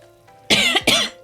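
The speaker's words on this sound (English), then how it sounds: "Still fucking coughing heaps." Two harsh, close coughs in quick succession, loud and raspy, from a player mid-game with no talking over them.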